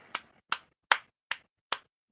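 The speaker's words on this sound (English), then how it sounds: "Golf clap for you, my man." Five slow, sparse claps spaced evenly about 0.4 seconds apart, each a crisp, isolated snap in an otherwise quiet room, soft and deliberate like a mock golf clap.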